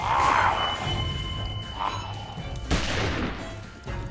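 A gunshot headshot in The Walking Dead video game lands as a sharp thud near the middle of a tense mix of game noises, with other dull impacts and a swish around it.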